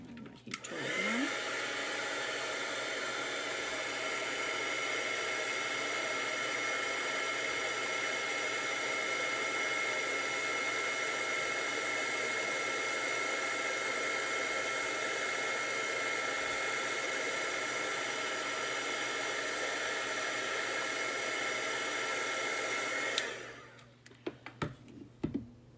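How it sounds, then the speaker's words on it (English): An embossing heat gun blows hot air in one long, loud, steady whoosh for about 23 seconds, then cuts off abruptly and leaves a few faint handling sounds. "And my heat tool again."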